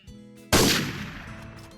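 One loud, sudden gunshot blast in a hunting video game on a Texas game ranch map, cutting in sharply and ignoring the volume setting, then a decaying echo tail; quieter tonal game sounds hum before it.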